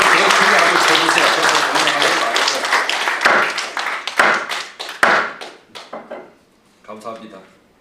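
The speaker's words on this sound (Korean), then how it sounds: "박수를 더 크게 한번 쳐주세요" An audience at a general meeting of a Korean association of retired generals claps loudly and densely, then thins out into scattered separate claps and stops, and a brief voice is heard afterward.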